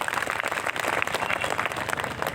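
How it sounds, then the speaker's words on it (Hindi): A crowd at a BJP political rally in Bihar claps and applauds steadily, a dense rattle of many hands heard from a moderate distance, sustained throughout with no speech. "जोरदार ताली बजना चाहिए।"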